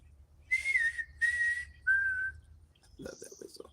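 A person whistles in imitation of a bird's call: three clear tonal whistles with slight pitch bends, close and alone, followed by a short burst of other noise at the end.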